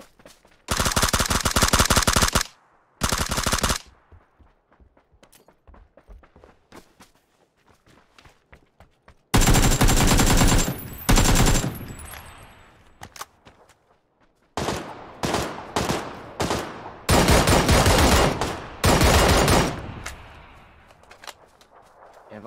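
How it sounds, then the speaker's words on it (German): Automatic and rifle gunfire in the online shooter PUBG, loud bursts of rapid shots near at hand, separated by quiet gaps with faint footsteps, then several shorter volleys in quick succession. "Werdet ihr immer noch geschossen?"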